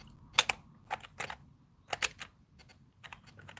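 A ZX Spectrum+ computer during game play gives off faint, sparse clicks and ticks in short irregular clusters against a quiet background.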